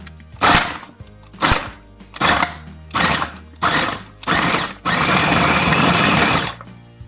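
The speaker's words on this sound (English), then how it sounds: "Now that everything is nicely in the food processor, you're going to close it tight, then start by pulsing it a few times." A food processor pulses frozen strawberries and bananas in six short, loud bursts, each a churning whir separated by brief pauses, then runs in one longer continuous blast, close up with no talking.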